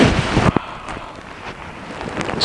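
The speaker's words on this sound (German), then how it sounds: "Dürfte es wahrscheinlich wegen des Mikrofons extrem stark rascheln." Poncho liner fabric rustling and rubbing right against a microphone, loud and close, with scraping crackles and a burst near the start.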